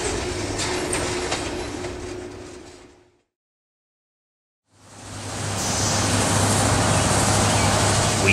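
A Georgia Northeastern Railroad grain train arrives with a loud, steady broadband rumble of rolling cars and wheels. The sound cuts out briefly in the middle, then returns just as heavy.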